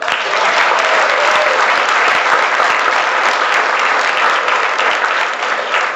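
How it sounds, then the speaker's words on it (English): Audience at a Global Cash Card corporate conference breaks into a full round of applause, a loud, dense, sustained wash of many hands clapping at an even level for the whole stretch, with no talking over it. "that proactiveness alone deserves a round of applause"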